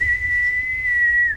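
A person whistles a steady, sustained high tone for over a second, loud and close with no talking, in a casual hip-hop conversation setting.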